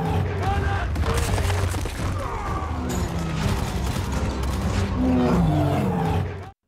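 A film battle scene with cannon fire from stone cannons and gunfire, a dense, continuous roar of booms and shots running throughout, with voices and music-like tones mixed in.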